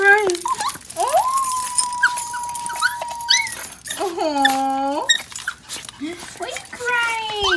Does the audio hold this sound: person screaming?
no